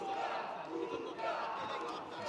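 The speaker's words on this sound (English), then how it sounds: "He's got the crowd support here, you can hear them." Fight crowd at a SuperFight Series bout between Rafal Gorka and Lukas Bienias, shouting in support of Gorka; a dense, steady roar of many voices with chanting swells throughout.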